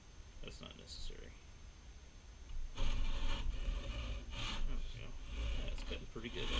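Hand saw cutting through wood stock for a foundry pattern, the teeth rasping in repeated strokes that grow louder and steadier midway, close by with no talk.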